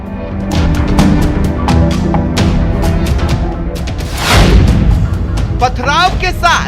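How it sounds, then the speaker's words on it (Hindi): Several sharp, loud gunshot-like cracks ring out during a stone-pelting riot in Jahangirpuri on Hanuman Jayanti, scattered among shouting voices and other crowd noise. "पथराव के साथ 2-3 राउंड चली गोलियां।"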